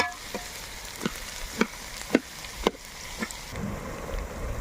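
Chopped onions frying in oil with a steady sizzle, broken by a series of sharp, evenly spaced scrapes and clacks as a spoon stirs them in the pan, close and fairly quiet with no voices.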